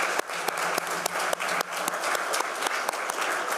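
Applause from delegates at a FIDE General Assembly, a steady wash of many hands clapping in a large hall with some louder individual claps standing out.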